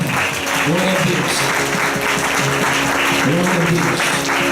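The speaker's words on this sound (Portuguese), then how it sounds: "Aplauda o Senhor pela nova vida." Congregation clapping for the Lord at a family worship service, loud and sustained applause mixed with raised voices and musical tones underneath, continuous throughout.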